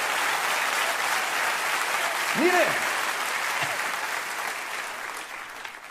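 Applause from a congregation at a church sermon, a steady broad wash of clapping filling the whole stretch at even loudness while a preacher's voice speaks over it.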